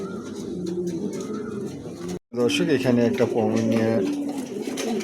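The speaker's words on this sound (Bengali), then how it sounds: "মাশাআল্লাহ দেখার মতন একটা কবুতর" A pigeon at a bird sale coos in soft, low repeated calls beneath someone talking, with a brief break before the talk and calls resume.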